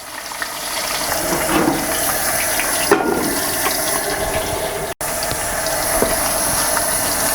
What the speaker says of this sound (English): once I hear a little less popping, a little less noise, I know that the potatoes are pretty much done